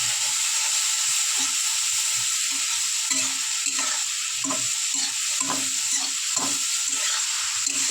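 Chilli powder, turmeric and ginger paste sautéing in a hot pan with prawns for a Bengali dish: a loud, steady hiss and sizzle broken by repeated scraping stirs of a spatula.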